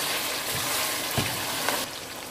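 Garlic, ginger and meat pieces fry in a pot with a steady, dense sizzle close by, a couple of faint clinks breaking through the hiss.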